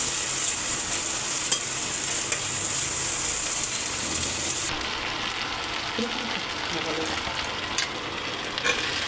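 A small-fish curry with potato and onion being stirred and fried in a pan, giving a steady sizzle with scraping stir strokes throughout, fairly close and even in level.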